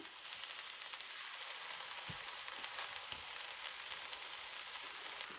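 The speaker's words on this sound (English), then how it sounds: "pop my livers on. They really take no time at all to cook up" Livers frying in a pan alongside vegetables at a farm breakfast, a steady, faint sizzle that holds evenly throughout with small scattered crackles and pops.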